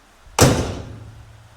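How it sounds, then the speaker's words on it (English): A single solid car door thud from a Mitsubishi Galant Hardtop, close by, with a short low rumble fading after the shut. "Look how nicely the door closes."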